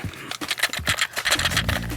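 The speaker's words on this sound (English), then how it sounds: "That's the sound of the tape, just in case you don't believe us." Short bursts of plastic clattering and scraping as a cassette tape is handled, busy and close, with a low hum toward the end.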